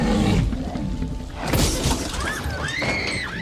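A roaring big cat in the style of a film sound effect, a loud rumbling roar with harsh, noisy bursts and rising and falling tonal wails, filling the whole short stretch without speech.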